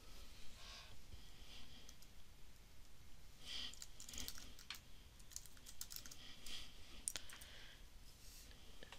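Typing a folder name on a computer keyboard: a steady run of light, quick key clicks with uneven rhythm, close and fairly quiet, with no voices.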